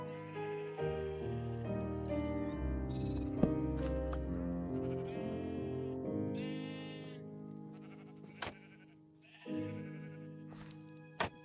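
Several drawn-out Minecraft sheep bleats overlap in a steady stream, moderately loud, then a few sharp clicks near the end.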